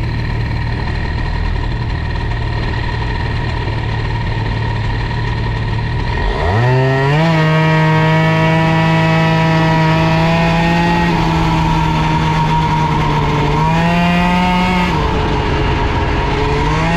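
A Bidalot RF 50 WR motorcycle's small engine runs loudly and steadily. It revs up sharply partway through, holds a high buzzing whine, then rises again briefly before easing back down. Nobody speaks.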